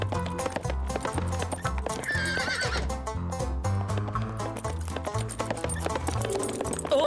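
A cartoon horse in a French animated series whinnies loudly, and its hooves clip-clop in a quick galloping rhythm as it runs off, with a voice faintly present at times.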